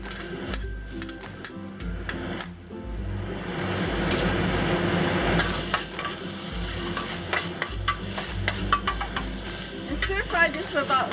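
Ginger and garlic frying in oil in a hot pan over medium-high heat, a continuous sizzle with scraping stirring strokes and occasional clinks of the utensil against the pan.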